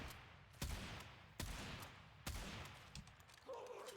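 A Bronco Incarnon shotgun in Warframe fires body shots, three sharp, evenly spaced blasts, then softer shots and a faint chime.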